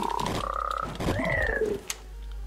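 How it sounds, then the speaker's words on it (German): A cartoonish croak from a frog in the 8-bit style Super Adventure Box of Guild Wars 2, a short rising-and-falling tonal call followed by a higher pitched squeal, loud and close. "Böser Frosch."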